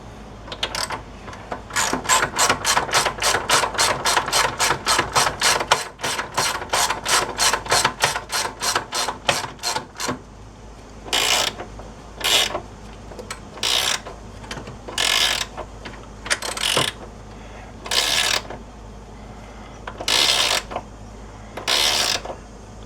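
Socket ratchet wrench working a bushing bolt on a Polaris Sportsman ATV, a fast run of rapid clicks followed by slower separate bursts of ratcheting, close and loud.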